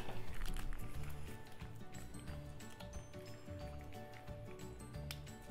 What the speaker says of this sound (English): Pouring the ketchup here on the fries, guys.